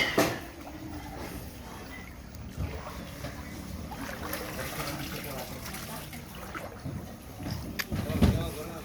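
A boat churns through floodwater in Panabo City, Davao del Norte, a low, steady rumble and slosh of water heard at moderate distance, with voices speaking over it.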